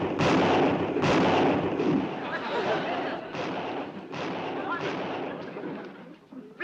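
Rapid gunfire from a country shooting outing in a 1960s sitcom scene, a dense run of loud, overlapping shots and blasts that keeps going for several seconds, fading slightly toward the end.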